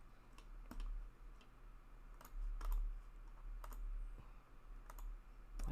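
Password being typed on a computer keyboard, a quiet, close run of scattered key clicks and taps over a low room hum, with no talking.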